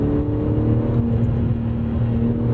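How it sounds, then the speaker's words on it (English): A 2012 Porsche 987.2 Cayman R with a naturally aspirated engine drones steadily from inside the cabin, a loud, even engine hum with no talk. "But man, do I love that naturally aspirated engine. Immediate throttle response, lovely sound."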